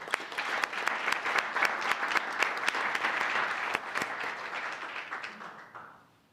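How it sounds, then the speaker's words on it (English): An audience at a city council meeting gives a round of applause, steady dense clapping with a few sharp claps standing out, fading away near the end. "I want to give them a round of applause"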